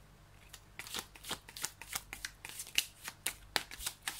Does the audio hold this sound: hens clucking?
no